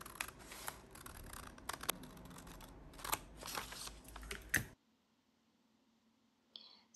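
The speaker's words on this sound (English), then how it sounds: "I'm just going to cut that out and glue it onto the collage." Scissors snip through a printed paper sentiment for a junk journal collage, giving close, dense, crisp cutting clicks for several seconds before stopping into near silence.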